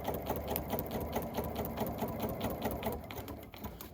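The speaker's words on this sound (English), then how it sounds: "Stitching just straight on that line." A Bernina sewing machine stitches a bulky quilt block in a steady, fast, continuous rattling run, close and loud with no talk over it.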